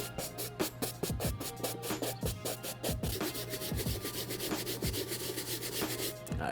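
Brushing across the suede of a Jordan SB 4 sneaker to reset the nap makes a close, steady series of dry scratchy rubbing strokes in a quick repeating rhythm, with no voices.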